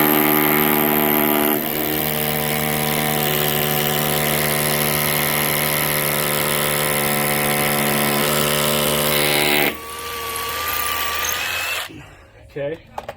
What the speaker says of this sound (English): So we'll just use this little rotor hammer.